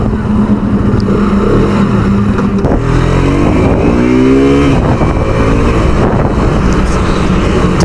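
A 2021 KTM RC 125 motorcycle ridden on the road, its small single-cylinder engine droning loud and steady throughout with shifting pitch as it revs and gears change, mixed with continuous wind rush.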